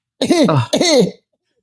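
A single short, raspy cough in two quick bursts, close and clear, followed by silence.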